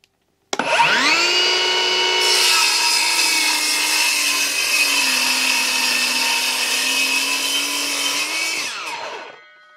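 A Ryobi R18CS7 cordless circular saw spins up and rips through an 18 mm wooden board in one loud, continuous high whine lasting about eight seconds, then winds down alone.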